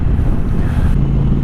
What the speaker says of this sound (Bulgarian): Вижте пак какъв вятър духа.